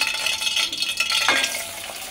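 Two medium onions fry in hot oil, giving a brief, bright, close sizzle with stirring scrapes.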